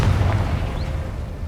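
A Confringo spell explosion in Hogwarts Legacy lands as a short, heavy boom at the start, then rumbles and fades quickly over a second and a half.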